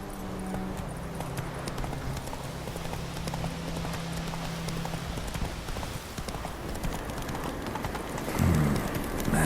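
A horse gallops in The Witcher video game, its hooves clip-clopping in a steady, rapid rhythm that sounds close. Birds chirp faintly in the background.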